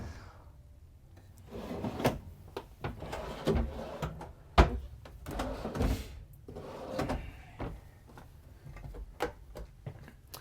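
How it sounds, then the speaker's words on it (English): A double-extension drawer in a Newmar Dutch Star RV is worked, giving a run of close knocks, slides and sharp clacks, one especially loud thump midway, with no talk. "You'll have one drawer here with the double extension, so it gets past that cabinet and you can get out of it easily."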